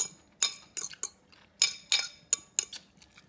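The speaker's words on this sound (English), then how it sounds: "Eating, honey, yes." Metal cutlery clinking against a plate while someone eats honey ham pasta salad, a string of sharp close bright taps in irregular bursts with quiet gaps between.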